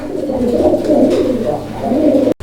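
Pigeons at a pigeon market in Bangladesh coo continuously in low, throaty, rolling calls that stay close and steady, breaking off briefly near the end.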